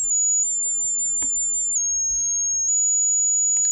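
A steady, piercing 9 kHz test tone used for tinnitus frequency matching holds almost unbroken throughout, loud and pure, with a few faint clicks underneath.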